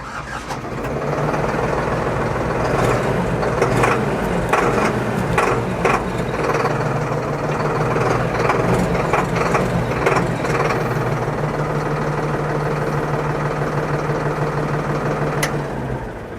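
A 60-horsepower Solis S60 tractor's diesel engine rumbles at a steady idle for the whole stretch, loud and close, with occasional clanks and rattles over the low drone.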